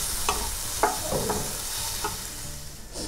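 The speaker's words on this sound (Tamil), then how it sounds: "இந்த மாதிரி கொஞ்சம் கிளறிட்டு நம்ம ஸ்டவ்வை ஆஃப் பண்ணிடலாம்." Amaranth greens sizzling in a pan on the stove while being stirred, a steady frying hiss broken by several scraping clicks of the spoon, close and moderately loud, with no talking.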